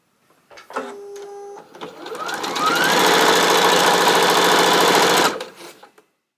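A sewing machine stitches rows of a quilt block together, with a few brief start-stop whirs before it runs in one loud, steady, close mechanical burst for a couple of seconds and then stops.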